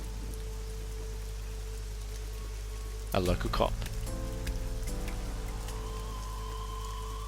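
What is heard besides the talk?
rain in video game The Somnium Files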